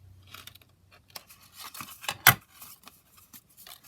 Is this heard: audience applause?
no